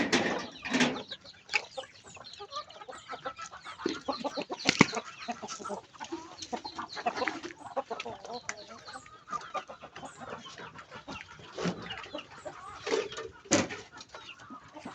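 Backyard chickens cluck and squawk at feeding time among ducks and goats, a busy scatter of close calls and sharp bursts over low rustling, with a faint voice now and then.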